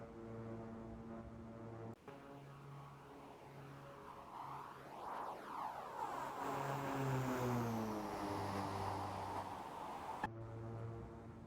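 King Air 350 twin turboprop engines droning steadily in flight in a flight simulator game, a loud continuous hum with shifting propeller tones that swell and sweep in pitch midway, no voices.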